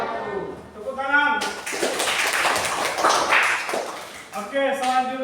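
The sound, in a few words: audience clapping hands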